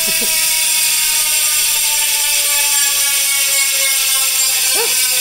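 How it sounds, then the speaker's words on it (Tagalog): Dense, rapid buzzing ratchet clicks from a spinning mountain bike hub freewheel, continuous and loud, with a couple of brief squeaks. "Version 2, MTB hubs kapag naka-free wheel."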